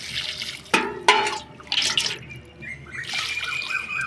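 About one and a half cups of liquid moringa leaf fertilizer poured onto a chili plant in a garden, heard as a few quiet splashes followed by a soft, trickling pour, with no talking.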